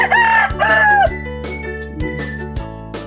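A Texas gamecock crows loudly and close by, two strained, rising calls at the start, followed by quieter clucks and scattered farmyard sounds.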